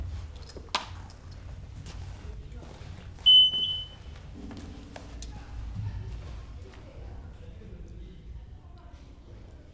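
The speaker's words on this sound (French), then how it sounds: "le détecteur de métaux a émis un signal, ce qui signifie qu'il a détecté un objet métallique." A metal detector swept close to the ground during landmine clearance gives a single short, high electronic tone over faint outdoor background noise, with people talking quietly nearby.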